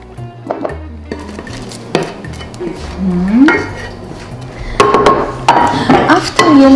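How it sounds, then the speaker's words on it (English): Lentil patty mixture being moved into a bigger pot, with close metallic clanks and scrapes of pot and utensil, a few sharp knocks and clinks, and a short voice heard briefly among the clatter. "I'm just getting a bigger pot so I can mix it"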